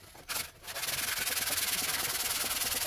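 Sandpaper sanding plastic interior trim from a BMW E46, a close rapid rhythmic scrubbing with quick even strokes that starts after a couple of short rubs and then runs steadily.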